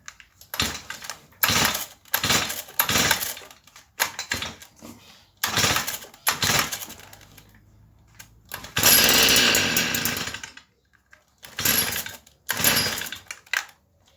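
A Stihl FS38 petrol weed eater gets several quick pull-start attempts, each a short burst of engine sputter, then catches and runs for a couple of seconds before more brief revs, loud and close.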